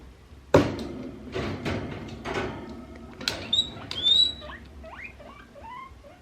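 Close rustling and shuffling of bedding in a guinea pig's cage with a sharp knock, followed by high squeaky chirps of the guinea pig, fairly quiet overall.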